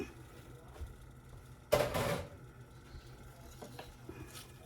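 Cooked shrimp are tipped back into a hot skillet for shrimp and grits, making one short, loud clattering slide with a brief sizzle. Softer scrapes follow over quiet background.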